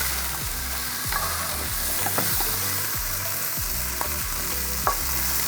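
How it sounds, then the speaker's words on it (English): Chicken and pork stir-frying in a hot pan with a steady, fierce sizzle, broken by a few sharp spatula clacks and scrapes against the metal as the meat is tossed; close and continuous with no talking. "now that I've got some fierce sizzling going on"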